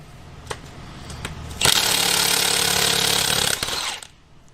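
A Milwaukee Stubby cordless impact wrench hammers loudly and continuously for about two seconds as it busts bolts loose, after a few short clicks and preceding a quick wind-down.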